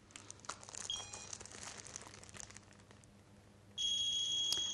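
Radex radiation dosimeter held over a sample of contaminated soil. Faint crinkling handling noises come first, then a steady, shrill electronic tone sounds alone near the end.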